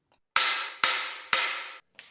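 Three evenly spaced, sharp hammer blows on a seized bicycle part from a Kona Fire Mountain. Each blow rings out metallically before the next, with a lighter tap at the end, close up and without speech.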